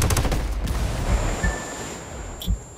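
Heavy automatic gunfire in the video game Ghost Recon Wildlands, a dense fusillade of rapid shots that starts strongly and carries on as a continuous loud barrage with scattered mechanical clatter, no speech.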